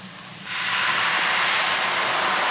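White wine poured into a very hot pan for deglazing at a restaurant kitchen, bursting into a loud, steady steam hiss that swells after half a second and holds strongly to the end, close and alone.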